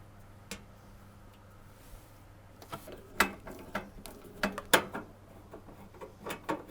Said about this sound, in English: Now use your Phillips screwdriver to unscrew the 6 screws that hold the bottom panel in place.